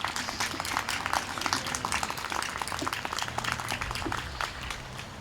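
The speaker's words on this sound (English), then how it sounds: "Let's hear a round of applause for the Friends of Adin Ballou" An outdoor picnic crowd giving a round of applause, steady dense clapping heard at a moderate distance, fairly soft and sustained throughout.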